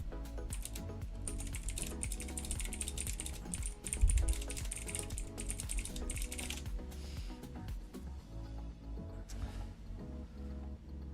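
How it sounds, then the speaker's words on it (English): Fast, continuous typing on a wired gaming keyboard, with dense clattering keystrokes close up and loud throughout, slowing slightly toward the end over a low background hum. "Don't you like keyboard noises?"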